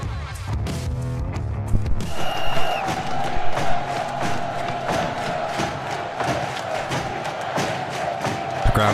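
A large stadium crowd roars and cheers continuously for several seconds, a dense, loud wash of voices with shouts and whoops rising out of it, preceded by a brief stretch of music.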